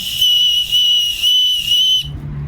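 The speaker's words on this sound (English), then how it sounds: "It's a whistle." Small whistle built into a bag clip, blown in three piercing high-pitched toots with brief gaps, loud and close, ending abruptly.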